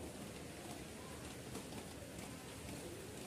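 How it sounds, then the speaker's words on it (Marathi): Rain falling outside during a village Ganpati puja, a faint, even, continuous patter with no breaks, heard from a distance with no voices. "बाहेर पाऊस पडते"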